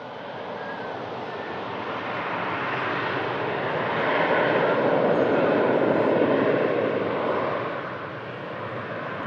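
An airliner in Frankfurt livery passes as a broad, steady engine roar, swelling toward the middle and easing off near the end, with no talk over it.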